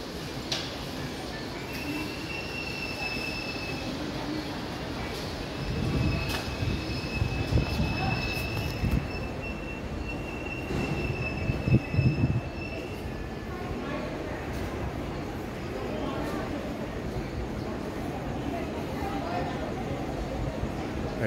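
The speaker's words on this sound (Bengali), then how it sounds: "ভাগলপুর রাঁচি এক্সপ্রেস রাঁচি স্টেশনে দাঁড়িয়েছিল, এইমাত্র রাঁচি রেলওয়ে স্টেশন ছেড়ে" Bhagalpur–Ranchi Express pulling out of the large Ranchi railway station in Jharkhand, a steady low rumble of rolling stock with drawn-out high squealing tones, while voices murmur faintly in the background.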